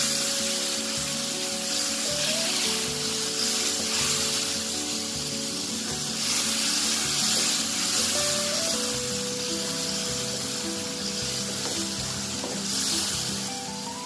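Fish fries with ground spices in a pan in a Bangladeshi home kitchen, a steady moderate sizzle with occasional spattering and stirring scrapes running continuously.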